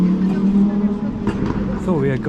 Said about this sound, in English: there is a very loud car passing by